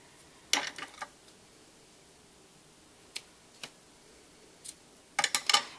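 Scissors cutting ribbon while a bow is tied, giving a few crisp, close snips spaced apart and then a quick cluster of cuts at the end.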